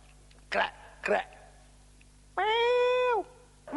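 A man imitates a cat, giving two short raspy bursts and then a longer, clear, tonal meow-like cry, all close and alone against a quiet background.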